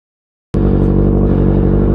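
Kawasaki ZX6R sport bike on a night ride, engine kicking in abruptly and holding a loud, steady buzzing drone close to the listener.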